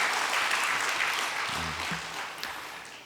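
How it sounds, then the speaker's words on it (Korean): Congregation applause at a church revival service, thanking a praise team for a special song: a full, continuous wash of clapping that slowly fades, with a faint voice or tone briefly underneath partway through. "우리 다시 한번 우리 박수로 감사의 마음을 표시하겠습니다."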